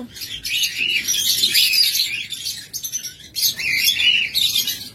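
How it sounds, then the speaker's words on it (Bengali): A green-cheeked conure chirps and squawks in a steady run of shrill, high-pitched calls, close and fairly loud, with brief pauses between bursts. "দেখুন গ্রিন চিক কোনুর"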